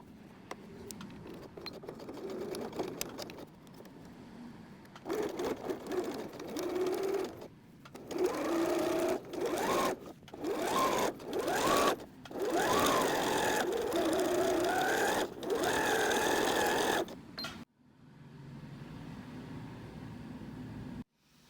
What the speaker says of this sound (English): I'll pull on them gently while I sew, and that will hopefully bring it through without it getting stuck